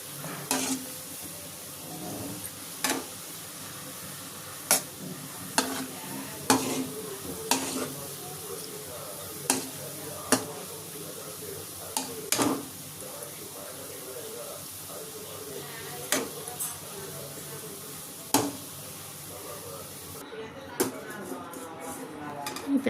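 Gulab jamun balls frying in oil over medium heat, a steady soft sizzle under repeated sharp clicks and knocks from a utensil against the pan, with occasional faint running water nearby.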